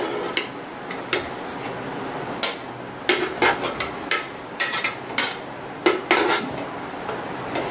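Cooked stingray fish pieces set down onto a plate, giving a series of light clinks and taps of utensil on plate, irregular and close, with quiet kitchen background and no talking.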